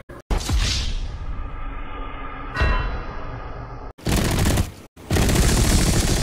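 Aircraft machine-gun fire during a dogfight in Battlefield V, with loud rattling bursts, a sharp whoosh and boom midway, then two heavy sustained volleys of gunfire near the end.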